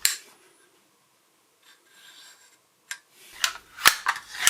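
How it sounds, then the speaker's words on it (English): Nails are dropped into a cheap nail gun's magazine and it is slid shut, making a few sharp metallic clicks and a scraping slide near the end after a quiet stretch. "You simply open this gun at the side there, drop your nails in, slide it forwards,"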